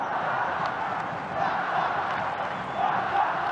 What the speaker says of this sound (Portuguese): A torcida pede Tartá.